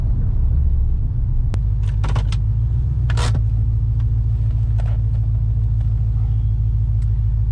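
A supercharged 3V Mustang GT with a swapped 6R80 transmission drives along with a loud, steady low engine rumble heard from inside the cabin, broken by a few brief clicks and rattles.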